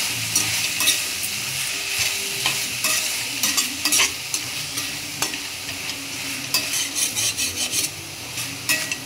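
Gongura leaves and tomato with salt are stirred in a pan, a close, sizzling frying sound punctuated by repeated scraping and clinking strokes of a spoon against the metal.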